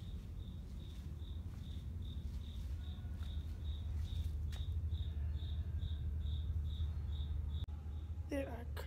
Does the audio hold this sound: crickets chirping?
yes